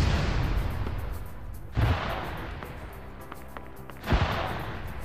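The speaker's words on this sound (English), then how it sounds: "I don't get why the mortars were shot that far." Mortar rounds land in a military video game, two heavy booming impacts a couple of seconds apart rising over a steady rumble of distant battlefield noise, with no talking.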